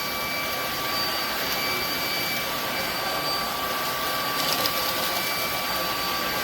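A cordless brushless stick vacuum cleaner runs at a steady, close, high-pitched whine with a constant airy rush, unbroken throughout.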